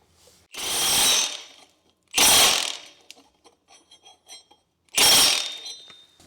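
A ratchet wrench tightens the clutch nut on a 2022+ Beta 4-stroke motorcycle during a Rekluse clutch install: three loud, close bursts of rapid clicking, with faint light metallic ticks in the gaps between them.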